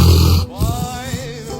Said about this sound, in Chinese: 我家的小黑打呼噜也非常响哦